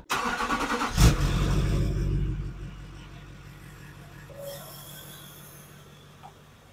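Truck engine cranking and catching with a loud burst, then settling into a steady idle rumble that slowly fades as the vehicle is pulled in, ending with a faint brief squeak.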